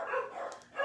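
Dogs bark in a live indoor setting, a few fairly close barks and yips repeating in quick succession with no talk over them.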